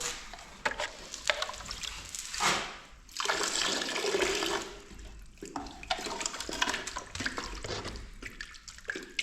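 Water is splashed and poured onto a stone barn wall to dampen it, coming in gushing, hissing bursts with short pauses between, close and fairly loud.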